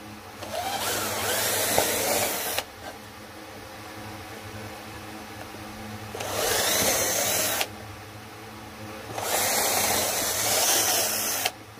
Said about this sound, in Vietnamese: mình khoan ở đây cho nó ba cái lỗ nha anh em